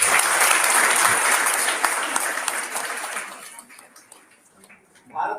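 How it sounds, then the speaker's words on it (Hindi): Audience applause for a college at a lecture event, a dense, loud burst of clapping that holds steady for about three seconds before thinning out and fading, with a brief sound rising at the end. "देवेंद्र नगर महाविद्यालय के लिए एक बार जोरदार ताली बजाएं।"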